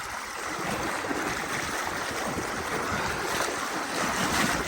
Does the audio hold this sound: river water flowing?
yes